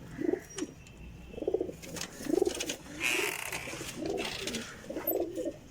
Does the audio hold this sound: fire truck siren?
no